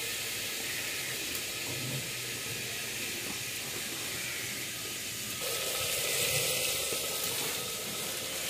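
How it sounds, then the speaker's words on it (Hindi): Chickpeas frying in a pan in a village kitchen make a continuous broad hiss that steps up in loudness partway through and carries on steadily to the end. "तो मैं उसको फ्राई कर लेती हूँ और सबको देती हूँ।"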